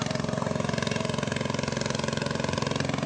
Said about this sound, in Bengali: এই দেখো ছোট্ট নৌকা মেশিনের যাচ্ছে।